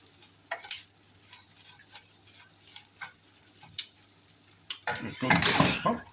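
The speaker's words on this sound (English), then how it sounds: "fry a couple of eggs at the top." A couple of eggs fry in a frying pan at the back of a stove beside a spicy chickpea hash, faint ticks and utensil clinks giving way to a loud crackling sizzle toward the end.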